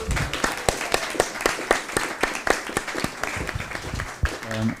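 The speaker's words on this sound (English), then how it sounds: "Big applause." An audience applauds at a devotional gathering honouring a moderator, with dense, steady clapping that stays loud throughout, plus a brief tonal sound near the end.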